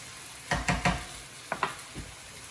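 Duck fried rice with dry sherry is stirred in a pan, with a few distinct scraping strokes over a soft sizzle: three quick ones in a burst, then two more and a final lighter scrape, no talking.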